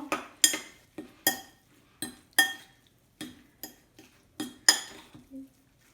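Minced meat seasoned with salt, pepper and soy sauce being stirred in a bowl for ground-meat grill skewers, heard as about ten sharp clinking strikes of utensil against dish at an irregular rhythm, close and clear with no talking.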